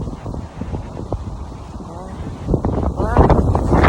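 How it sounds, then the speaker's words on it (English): Strong gusty afternoon wind roars and buffets against the microphone outdoors near trees, swelling louder toward the end while people talk over it. "the wind is getting strong."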